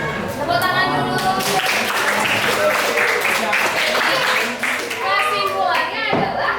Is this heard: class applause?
yes